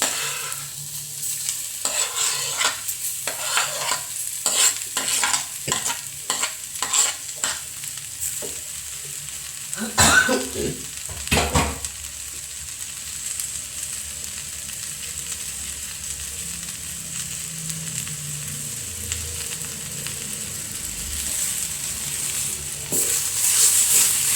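Potato frying in a pan with chilli powder, starting with a run of scraping stirs over a loud sizzle and then settling into a steady, unbroken hiss close by.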